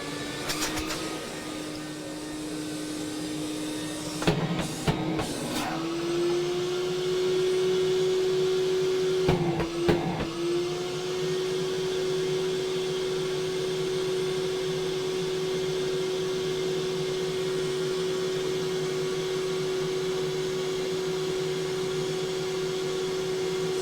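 A DeWalt FlexVolt 60V TSTAK dust extractor, model DCV585B, running on its wet function with a steady motor whine and suction roar, close and continuous, briefly interrupted twice by clunks or switching early on.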